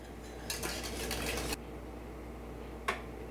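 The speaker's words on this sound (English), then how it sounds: "You want to just whisk that in." A whisk clinks and scrapes against a pan while room-temperature butter is beaten into cream puff dough, a busy stretch of rapid metallic rattling that stops abruptly, then one more brief clatter after a pause.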